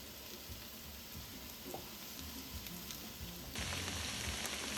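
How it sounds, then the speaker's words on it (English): Onions cook in a pan with a soft, continuous crackling sizzle like light rain, heard up close and quietly, swelling a little louder near the end, with no talking. "these onions have been cooking here for just about 5 minutes"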